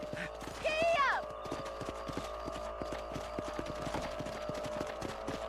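Horse hooves clip-clop in a steady trotting rhythm in the video game Red Dead Redemption, a brief whinny sounding near the start, with a rider's voice over it.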